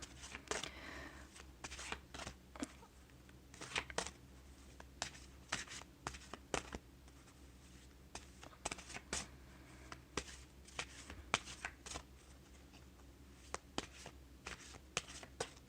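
A deck of angel oracle cards being shuffled, with soft irregular riffling and sharp slaps repeating over about fifteen seconds, quiet and close with no voice.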